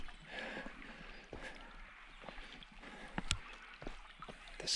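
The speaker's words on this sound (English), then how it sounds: "The sound of the water." Stream water flowing through Carnarvon Gorge, a steady soft wash with faint splashes and gurgles close by, heard alone with no voices.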